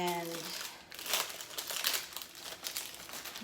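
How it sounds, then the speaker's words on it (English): Ritz cracker sleeves crinkle and rustle loudly up close, a steady run of crackly plastic wrapper handling that lasts throughout, with a brief voice at the very start. "I am going to crush up my Ritz crackers."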